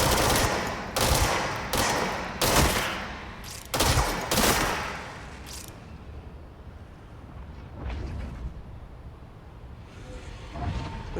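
Gunfire from a weapon in the video game Control: loud, close bursts of rapid shots in the first half, then quieter scattered shots against a rumbling background.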